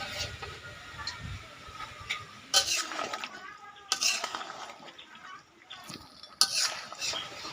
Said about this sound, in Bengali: মাংসটা একটু কষিয়ে নিয়েছি